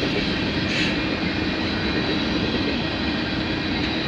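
A CN or CP freight train rolls past in Milton, Ontario, producing a steady, broad rumble of wagons on track with faint clatter throughout, fairly close and unbroken.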